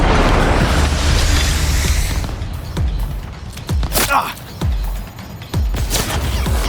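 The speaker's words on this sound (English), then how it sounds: "Grenade!" A grenade blast in the video game Cyberpunk 2077, one loud booming burst up front followed by a run of sharp pops and thuds at irregular intervals, with voices talking over the action.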